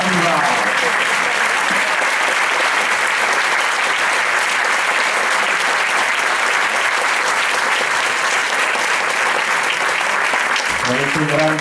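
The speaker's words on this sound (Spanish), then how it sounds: "aplauso grande" Loud, sustained applause from a crowd at an Aragonese cultural performance in Puerto de Sagunto, Valencia, dense clapping that fills the room steadily before cutting off near the end.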